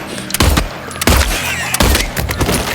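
Three loud, sharp gunshots fired at a nurse enemy in a horror video game, evenly spaced about two-thirds of a second apart, each with a short ringing tail and no talking.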